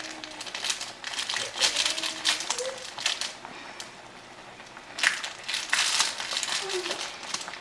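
A knife slices through a pepper on a cutting board while making pho, giving crisp crunching cuts in two bursts separated by a quieter pause.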